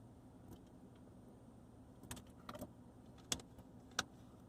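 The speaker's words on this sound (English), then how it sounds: "I'm driving from Frostburg State University to Allegheny College of Maryland" Interior of a car being driven from Frostburg State University, a low steady engine and road hum with faint clicks, rattles and small jangling taps scattered over it.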